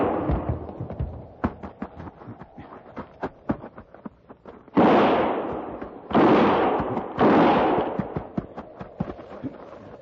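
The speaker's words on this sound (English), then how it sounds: "Start firing." Gunfire in an old-time Western radio drama shootout: a rapid string of sharp shots, loud and close, broken by three longer blasts of noise, with no talk.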